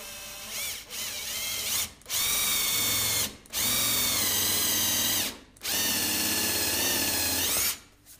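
A cordless-style power drill bores holes in wood for an Adirondack table, whining loudly in four long bursts separated by brief pauses, close up with no talk.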